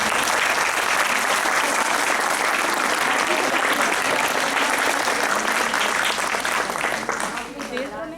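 An audience at the valedictory session of a music, art and drama workshop breaks into sustained, loud applause that tapers off near the end.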